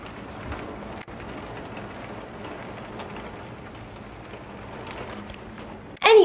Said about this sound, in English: It's pouring rain, by the way.